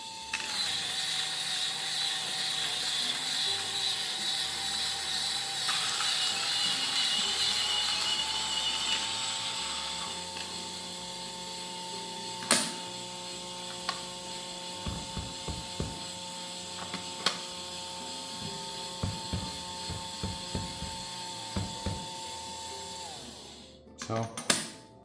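Starseeker Edge and Varia VS3 coffee grinders hum for a steady stretch, then the motor winds down and a run of close, clicking ratchet-like adjustment steps follows, ending in a brief louder burst.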